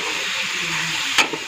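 Onions dropped into a pan of chicken already browned in oil for milk chicken karela, giving a steady, loud sizzle with a sharp crackling burst near the end.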